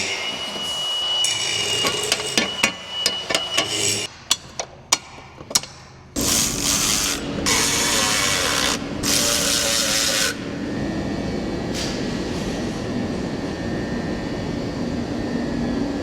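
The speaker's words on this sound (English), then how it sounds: "Let's weld this adapter on." Welding an adapter onto prepped metal on a custom diesel tow truck build: a run of sharp clicks and taps comes first, then a loud steady hiss and crackle of welding in bursts, followed by a fainter lingering noise.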